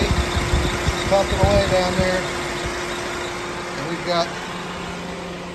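A 2007 Toyota Corolla engine idles steadily after an AC clutch assembly repair, a near, even mechanical hum with faint ticking, while someone talks briefly over it.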